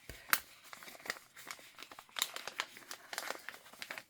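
Paper being folded for a fall journal: soft, irregular crinkles and sharper creasing snaps, close by and quiet, with no speech.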